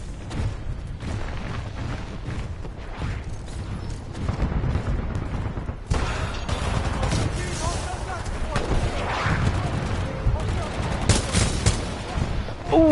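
Gunfire and explosions from the video game Titanfall 2 roar continuously, dense bursts of shots and booms at steady high loudness with no gaps.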